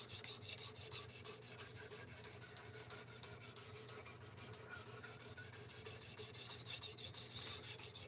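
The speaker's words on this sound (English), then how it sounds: "that's why we're sharpening it" A blade is drawn repeatedly across a sharpening surface in a steady rhythmic rasp, each stroke a quiet scraping rub at even intervals, near and alone without talk.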